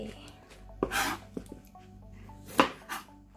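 A few sharp knife strikes against a cutting board, irregularly spaced, with faint kitchen clatter between them; no talking.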